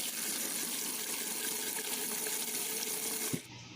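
Piquin peppers are rinsed under running tap water in a sink, making a steady, close gush of flowing water for about three seconds before it cuts off abruptly.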